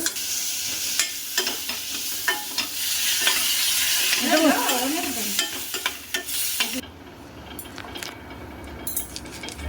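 Cucumber curry in a pan after water is poured in, with stirring and sizzling frying sounds from close by, a brief bubbling liquid burst in the middle, then quieter simmering toward the end.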